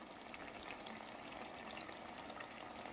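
Water splashes into a hot cooking pot of dhaba-style chicken over high flame, giving a soft continuous hiss and sizzle with no voices.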